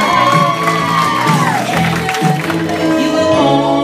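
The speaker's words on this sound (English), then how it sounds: "And everyone applauds." Wedding guests applaud and cheer after the bride and groom kiss, a steady dense crowd roar with shouts and whoops over continuous clapping, loud and close throughout.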